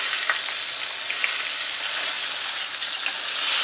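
Stuffed zucchini flowers sautéing in a pan, a bright, steady, close sizzle with faint crackles throughout and no voices.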